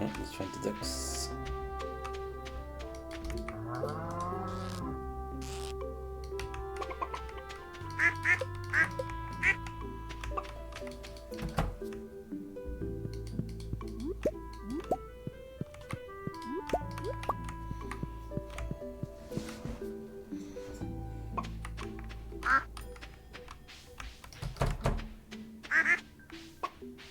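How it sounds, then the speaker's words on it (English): Ducks quacking in the Stardew Valley video game, sharp repeated quacks popping up over continuous cheerful background music with small dripping and plopping game effects. "Alright, let's find the ducks."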